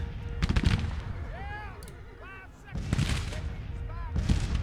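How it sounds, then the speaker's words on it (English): Artillery booms from the Civil War strategy game Grand Tactician, a few heavy low thuds in separate bursts, with cannon and gunfire rumbling under occasional whistling tones. "Line down so the artillery can fire in."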